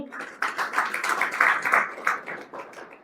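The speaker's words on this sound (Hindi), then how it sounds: "जोरदार तालियों के साथ इनका भी स्वागत कीजिए" An audience at a free two-day health camp held in a school gives a scattered round of applause to welcome a speaker, soft and uneven, with a voice talking over it.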